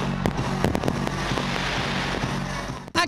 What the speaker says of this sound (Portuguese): o que todo mundo queria ver mesmo eram os fogos